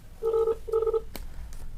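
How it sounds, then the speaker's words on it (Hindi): A phone call's ringback tone, two short repeated electronic tone bursts followed by a faint click, heard at moderate level with low background hum and no speech. "दोस्तों घंटी जा रही है।"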